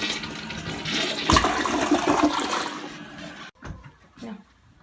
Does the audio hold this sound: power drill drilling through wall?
no